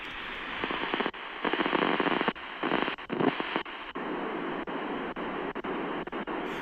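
Loud hissing VHF radio static from a Retekess TR112 receiver, heard in a forest, cuts in and out in uneven bursts and gaps as it scans through empty channels.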